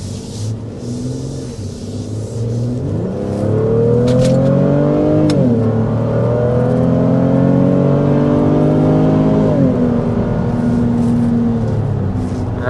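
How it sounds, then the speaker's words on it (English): A 2025 Honda Pilot with a V6 pulls hard uphill to 60 mph, the engine droning and rising in pitch through the gears with brief dips at the shifts, heard steadily from inside the cabin. "that was accelerating up a hill to 60 miles per hour"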